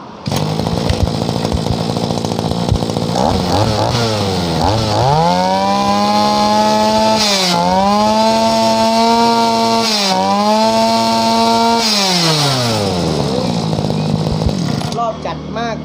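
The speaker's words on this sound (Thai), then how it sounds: "ใครที่ชื่นชอบเครื่องตัดหญ้า น้ำหนักเบา และรอบจัดมาก ๆ เลยนะครับ" A Stihl FS26NL petrol brush cutter engine revs hard and high, its whining pitch climbing and holding with brief dips, loud and close throughout.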